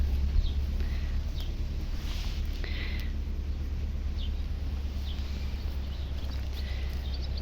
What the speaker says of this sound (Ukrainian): зайшла сюди трошки наче тихіший вітер